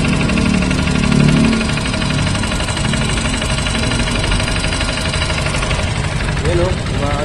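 A car engine with a crankshaft fault runs loud and close, a steady mechanical drone with an irregular knocking beneath it, while people talk over it.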